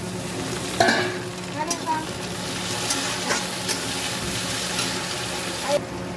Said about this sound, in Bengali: এবার টমেটোটা দিয়ে দেব।